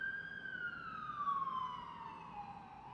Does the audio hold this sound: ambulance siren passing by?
yes